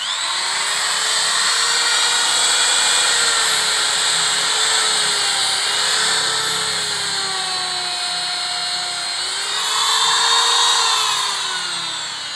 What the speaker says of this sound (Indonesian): kita akan pakai bor listrik biar lebih tampak modern gitu ya